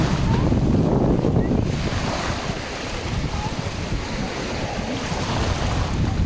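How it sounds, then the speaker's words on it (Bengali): Rough ocean waves at Al Jassasiya beach in Qatar, a loud continuous roar of surf mixed with heavy wind buffeting the microphone. "ঢেউ রে ঢেউ, এত ঢেউ এখানে।"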